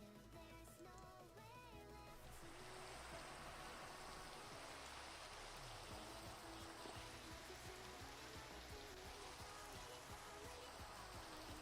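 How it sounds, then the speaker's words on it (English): Steady rain falls across a Minecraft world, a dense, even hiss that takes over after about two seconds and runs unbroken to the end, with game music or talk faintly under it at the start. "Oh god, it's raining."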